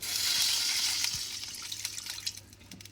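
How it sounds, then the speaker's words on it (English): Water pours steadily into a pan to start a sugar syrup for boondi laddu, a near, continuous splashing that gradually thins out toward the end. "So for that I'm going to add some water first"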